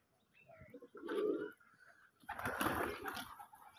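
Pigeons at a home pigeon farm coo in low, soft bursts, with faint bird calls in a quiet space; two clusters of muffled cooing are heard close by.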